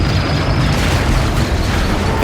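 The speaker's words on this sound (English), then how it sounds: "Then I saw what made that final explosion, or rather, series of explosions." A rapid series of explosions from a crashed speeder striking a comms tower and barracks, heard as a dense, continuous roaring rumble with no pauses, loud and close throughout.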